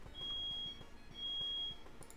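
A home fire alarm is going off, sounding two long, steady, high-pitched electronic tones with a short gap between them over a faint low background hum.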